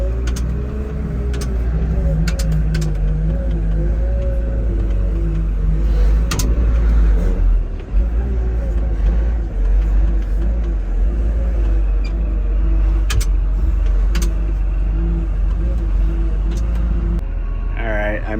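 A loader's diesel engine rumbles loudly and steadily as the machine drives up onto a trailer under its own power, the engine note rising and dipping, and someone talks over it.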